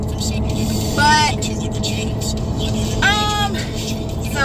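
A car rolls along on a long 45-minute commute, with a steady, close, low cabin rumble and road hum throughout. Two brief, higher tonal sounds rise above it, and there may be a voice in the cabin.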